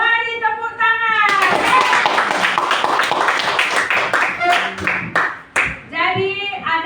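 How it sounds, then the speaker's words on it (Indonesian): A classroom of children claps together for several seconds, a close burst of brisk, uneven applause that trails off into a few scattered claps, with a teacher talking before and after. "Mari tepuk tangan."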